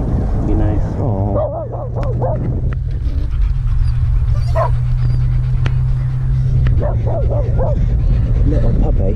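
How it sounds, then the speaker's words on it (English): A puppy yips and whimpers in short high bursts at the start and again near the end, close by, while a low steady hum runs underneath and people talk intermittently. "Little puppy."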